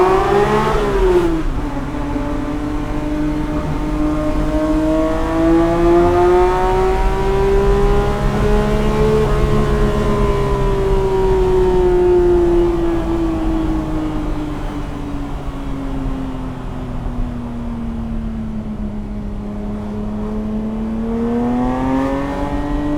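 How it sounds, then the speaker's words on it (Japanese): A Porsche Speedster engine revs and accelerates loudly and close for about twenty seconds, its pitch climbing, easing off and rising again in long smooth sweeps with no talking. "ちょっと素晴らしいサウンドを聞いてみましょう。"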